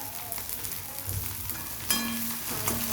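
Capsicum and a little coriander added to browned onion in a pan for gobi manchurian, giving a continuous close sizzle with brief clinks of a utensil and a louder burst near the middle, no speech.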